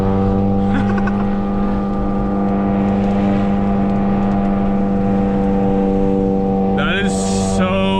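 A Volkswagen GTI sleeper build accelerates loudly from inside the car, its engine droning with a steady strong hum and rising revs, a brief higher whine near the end; speech is present faintly.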